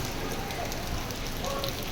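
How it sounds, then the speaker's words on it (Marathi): Dense, steady hiss of heavy rain pouring down close by on the Kedarnath trek, continuous and loud with no pauses. "पाऊस एवढा पडतोय ना बघा"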